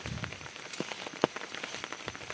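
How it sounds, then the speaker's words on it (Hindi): Heavy monsoon rain pattering steadily on surfaces in a Himachal village, dense drops with one sharper nearby splash, no voices. "ये बंद होने का नाम ही नहीं ले रही है ये बारिश।"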